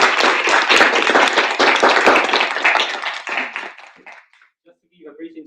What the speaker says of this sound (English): Please have a big round of applause for our guests.